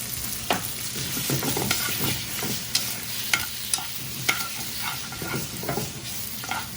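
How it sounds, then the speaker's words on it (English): Unsalted butter melting and sizzling in a pan while being stirred, a steady close frying hiss with scattered clicks of the utensil against the pan, no voices. "All we want to do is melt the butter, get that creamy texture."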